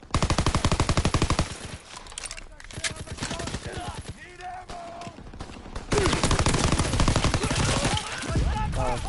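Rapid bursts of PPSh submachine gun fire ring out in a Call of Duty WWII match, loud and repeated in fast rattling volleys, with a voice talking over the gunfire.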